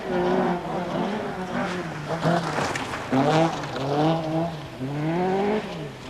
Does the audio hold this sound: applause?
no